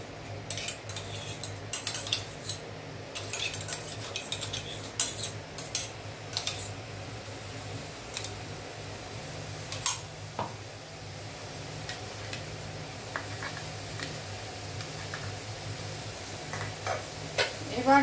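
A spoon stirs and scrapes spices frying in mustard oil in a pan, with soft tapping and clinking of metal at an irregular pace over a faint steady sizzle.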